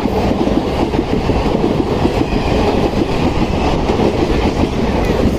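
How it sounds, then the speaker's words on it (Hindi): The Jammu Mail express pulls slowly out of Jalandhar Cantt station, a loud, continuous rumble of rolling coaches with a steady rattle throughout. "देखिए डिपार्चर धीरे धीरे अपनी ट्रेन का जलंधर कैंट से"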